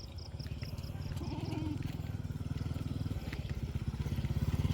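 A motorcycle engine chugs with a rapid, regular putter that grows louder and closer toward the end, heard at night outdoors with faint background noise.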